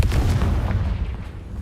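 Confringo fire spell exploding in the game Hogwarts Legacy, a single deep booming blast with a rumbling tail that fades over about a second and a half.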